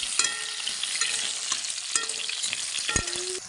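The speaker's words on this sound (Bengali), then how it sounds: "কলা দিয়ে দিচ্ছি, আর আমি ভালো করে ভেজে নিচ্ছি। একসাথে সব লাল লাল করে ভেজে নিচ্ছি।" Potatoes and plantain fry in a pan, giving a steady close sizzle broken by scraping stirs and a few sharp utensil knocks. No one speaks.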